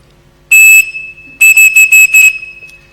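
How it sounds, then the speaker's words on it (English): A Captain Crunch toy whistle shrills a piercing steady tone, one long blast followed by four or five quick bursts, loud and close with nothing else under it. "the Captain Crunch whistle."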